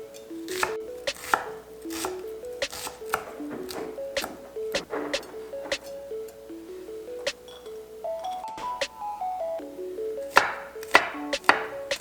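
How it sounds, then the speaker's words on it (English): A knife chops onion on a cutting board in quick, irregular strokes, each a crisp close knock, heard throughout over soft melodic background music with no speech. "And now we're gonna chop up our vegetables, and we'll start with the onion."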